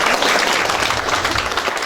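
An audience at a Yangpyeong county community forum in Yangdong-myeon claps in a short, dense burst of applause that stays steady for two seconds.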